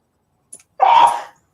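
A single sneeze during a casual coin-hunting session, a short intake followed by a loud, burst-like exhale lasting about half a second, close and clear with no talk over it.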